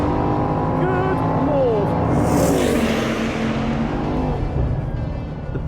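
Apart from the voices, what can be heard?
Bugatti Bolide 8.0-litre W16 engine accelerating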